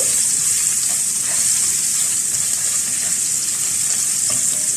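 Two cloves of garlic frying in hot oil in a pan, a loud, steady, close sizzle that hisses evenly throughout with no pauses.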